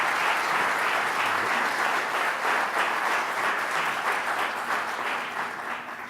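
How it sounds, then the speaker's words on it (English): An audience at an environmental conference applauds a featured speaker with steady, dense clapping that holds loud and then fades slightly at the end. "Could we give Bill another round of applause?"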